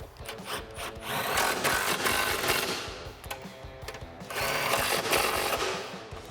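A power tool drives home two 13mm bolts on the front side of an SR Performance height- and damping-adjustable coilover during installation, sounding as two long, loud whirring bursts with a short pause between them.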